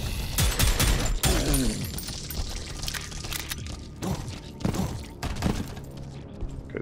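Rapid bursts of gunfire from a weapon in the shooter game Prodeus, with several clustered volleys and sharp cracks at close range, sounding loud and punchy with no talk over them.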